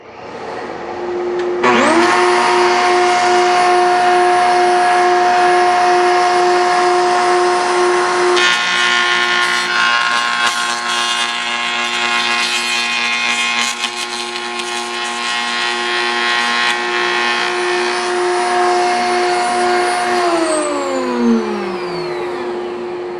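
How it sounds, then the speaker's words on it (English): A power tool cuts rabbets in small wood pieces for a necklace case. The motor spins up sharply to a loud, steady whine with rough cutting noise partway through, then winds down at the end, with no talk. "I also need to cut the rabbet in the box bottom"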